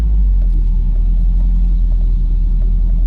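An R129 Mercedes SL500 engine runs with a deep, steady low rumble, loud and close, with no voices.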